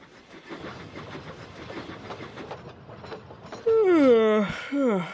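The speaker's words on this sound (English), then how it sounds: "Thomas awoke to Harvey's whistle." Rhythmic rumble of a moving train, then a loud, falling steam engine whistle sounds twice, fairly close.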